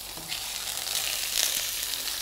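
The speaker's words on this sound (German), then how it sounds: "Kurz anbraten." Meat searing briefly in a hot pan gives a steady, close sizzle and frying hiss throughout, with no talking.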